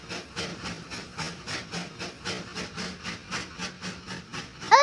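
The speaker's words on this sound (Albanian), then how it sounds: "Është treni Delfit." A cartoon steam train pulling into a station, its rhythmic chuffing puffs repeating steadily at close range, with a sharp hiss at the very end.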